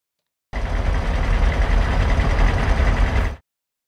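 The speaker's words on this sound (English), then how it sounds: "So here's the sound of the tank in full." A designed RC tank sound layering a mechanical oil pump, a truck engine and added deep low rumble, playing as one steady, dense, loud drone for about three seconds with no talk.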